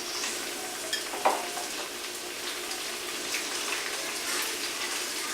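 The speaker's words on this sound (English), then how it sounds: "I'm going to take the pieces and lay them out so that we're just searing the outside" Pieces of food searing in a hot pan make a continuous close sizzle and crackle, with a brief sharper pop near the start and no talk.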